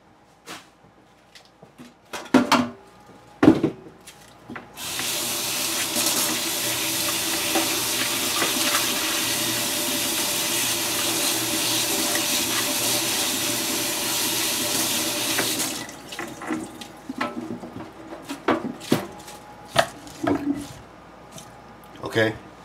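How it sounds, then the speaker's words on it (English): Kitchen sink tap running steadily for about eleven seconds while celery is rinsed for chicken noodle soup, a loud even gush framed by clunks and handling sounds before and after. "Okay, I rinsed the celery off."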